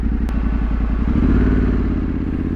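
Trail motorcycle engine labouring up a hill in Wales, close and loud, with rapid chugging pulses at first that smooth into a steady, straining drone as revs rise, plus a sharp clunk near the start.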